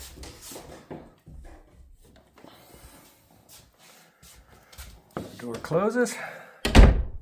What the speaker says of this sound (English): when the door closes